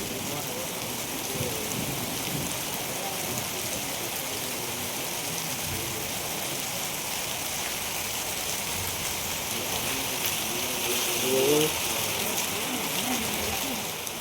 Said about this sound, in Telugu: ఫుల్ వర్షం వస్తుంది కదా